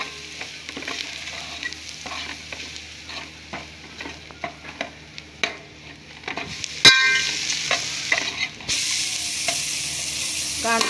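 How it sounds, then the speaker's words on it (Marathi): Chili powder roasts in hot tempering oil while a ladle stirs and scrapes in scattered clicks over a soft sizzle, and a louder frying hiss swells near the end. "तिखट आपलं भाजलं याच्यात फोडणीमध्ये"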